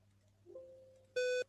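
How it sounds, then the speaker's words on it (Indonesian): An electronic buzzer sounds on an automatic water pump circuit for filling a swimming pool, a short, harsh, steady tone that cuts off abruptly after a softer lower hum. "Jadi dengan berbunyinya buzzer, lalu relay terputus"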